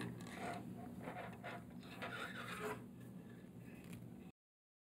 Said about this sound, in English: The second step is to run a bore brush down the barrel.